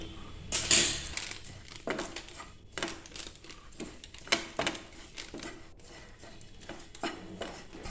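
A spoon stirs coriander and garam masala powders in a pan for a roasted-coconut chicken curry, giving light, irregular scraping clicks and taps, close and fairly quiet, with one brighter clatter near the start.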